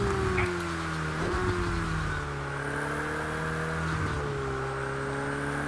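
A racing car's engine in a rain-soaked racing video game with traction control on, whining and droning as its pitch climbs and dips through gear changes, continuous and fairly close.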